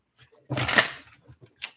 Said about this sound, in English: This is going to be our last shuffle